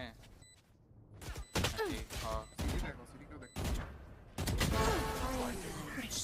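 Gunfire in a Valorant match between NS and RRQ at VCT Pacific Stage 1, several separate bursts of shots and weapon sounds spread across the stretch, heard under a commentator's excited speech.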